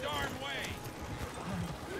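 Horse hooves clip-clop steadily along a road in the RedM western roleplay game, a quick galloping rhythm close by, under ongoing talk.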